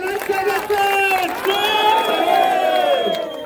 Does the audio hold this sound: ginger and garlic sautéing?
no